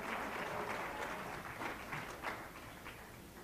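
Applause from an audience at a conference general session, a steady dense wash of many hands clapping with slight swells, continuing throughout at moderate loudness.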